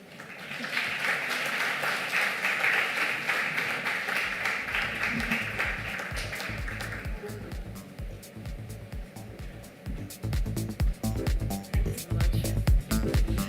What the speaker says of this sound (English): a louder round of applause